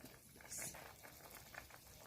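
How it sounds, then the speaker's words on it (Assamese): Water comes to a boil in a pot for Assamese fish curry, a faint, close bubbling and patter with a brief sharper hiss partway through. "এতিয়া এয়া উতল আহি গৈছে"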